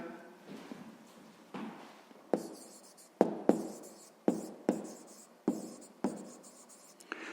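Pen writing by hand on paper while a sixth-grade maths exercise is worked out, a string of sharp scratchy strokes and taps in a steady rhythm, close and fairly quiet, with no talking.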